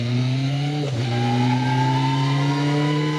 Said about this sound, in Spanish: aquí escuchamos un poquito más, un ratito más cómo suena la moto